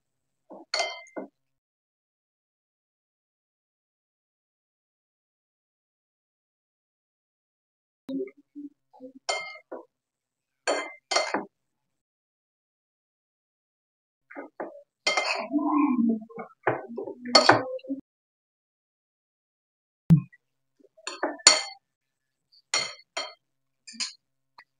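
Chicken fritter (okoy) mixture being stirred in a bowl, giving bursts of clinking utensil-against-bowl scrapes in separated clusters with quiet gaps between, close and fairly crisp, no talking.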